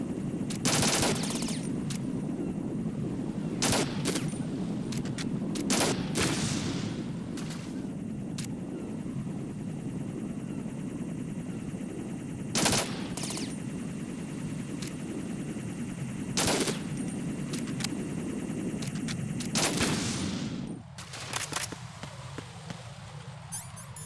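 Rapid bursts of gunfire from the video game Metal Gear Solid 2, repeated sharp volleys of automatic weapon fire over a steady low rumble, loud and close throughout with brief pauses between bursts.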